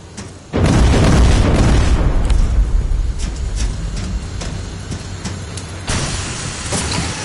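A heavy rocket blast erupts in the Terminator Resistance video game, with a sudden loud boom followed by a sustained rumbling roar, then a second explosion late on under the continuing din.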